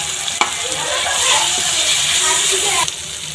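Onion frying in a pan with ginger-garlic paste just added, giving a steady loud sizzle with stirring scrapes and a couple of sharp clinks throughout.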